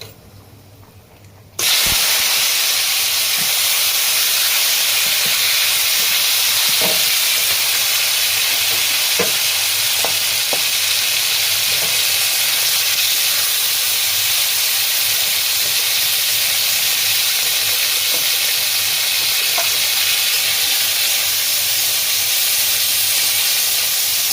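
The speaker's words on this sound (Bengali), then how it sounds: "প্রথমেই মাংসটা আমি ফ্রাই করে নেবো" Minced chicken hits hot oil with turmeric in a kadai, and a loud sizzle bursts in after a brief quiet start. It then holds as a steady, close hiss scattered with sharp crackles and pops.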